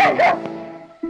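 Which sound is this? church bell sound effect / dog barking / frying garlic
dog barking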